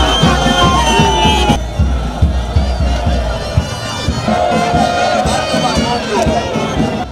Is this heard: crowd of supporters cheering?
yes